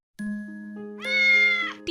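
A cat meows twice, a flat sustained mew followed by a louder rising, drawn-out meow, clear and close with no other sound.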